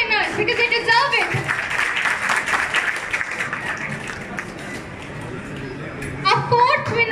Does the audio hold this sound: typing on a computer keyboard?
no